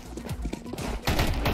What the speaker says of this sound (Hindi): गोली भी चला दी बंदे ने ठा